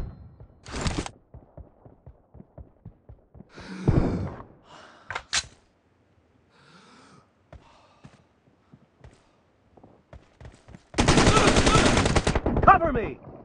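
Gunfire in a video game team deathmatch, with a bursting volley at the start, scattered single shots through the middle and a loud sustained automatic burst near the end, set among quieter clicks and breaths.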